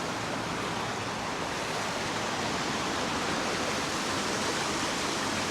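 The waterfall at Dyserth in North Wales pours in a constant, dense roar of rushing water. The sound is even and loud throughout, with no voices.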